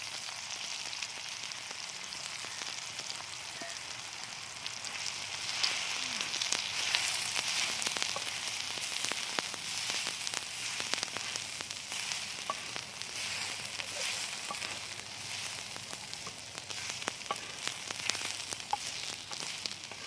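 Ground green chutney of coriander and chilli frying in a pan on the stove, a steady sizzle with bursts of crackling spatter that rise in the middle, close and alone without talk.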